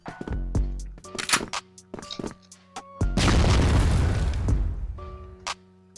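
Gunfire and explosions in the online shooter CrossFire 3.0: sharp, loud shots in quick bursts, then a heavy booming blast about halfway that rumbles for a couple of seconds before more shots.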